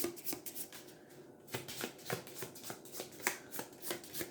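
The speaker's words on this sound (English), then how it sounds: "And pop that in, shuffle it up." A deck of game cards being shuffled by hand, a quick run of crisp riffling snaps and flutters in an irregular rhythm, close and fairly quiet, with no talking.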